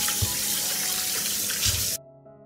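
A kitchen tap runs steadily as fresh tomatoes are washed under the stream, with a few splashes, before the water is shut off abruptly near the end.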